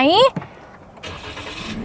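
A 2023 Toyota Yaris engine cranking and catching after a woman's brief speech, then settling into a steady idle, close by and moderately loud.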